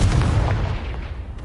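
Confringo fire spell in Hogwarts Legacy bursting with a deep, booming explosion that rumbles loudly at the start, then fades into a lower roar over about a second and a half.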